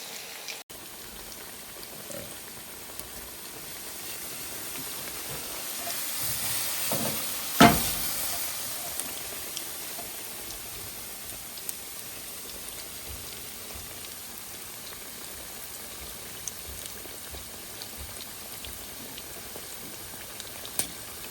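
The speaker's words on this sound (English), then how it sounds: "So our fry oil is heated up, 350. We're gonna go ahead and add our shrimp." Coconut shrimp lowered into 350-degree deep-frying oil, a steady fizzing crackle of bubbling oil throughout with a brief louder sizzle burst near the middle as the shrimp go in.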